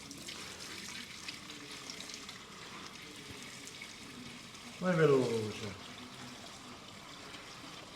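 Ten-year-old fuel glugs and splashes briefly into a bucket on a floor, a short liquid pour rising midway through, with people talking around it and steady background noise.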